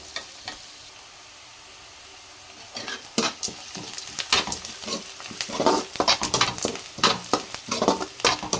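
Onions sauté in oil in a pan with a sizzle that stays quiet at first and then grows busy. Spoon scrapes and stirring clatter come in bursts over the hiss, close and fairly loud, and no one speaks.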